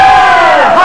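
A stadium crowd of about 120,000 at a Rangers v Celtic match at Hampden roars loudly and steadily in a brief, dense wall of cheering.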